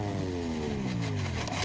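Loud MotoGP racing motorcycle at Sachsenring, its engine note falling as the rider comes off the throttle, a close harsh whine sweeping downward, then a rising roar.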